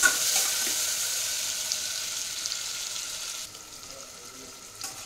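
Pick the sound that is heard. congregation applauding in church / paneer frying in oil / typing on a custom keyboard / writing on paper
paneer frying in oil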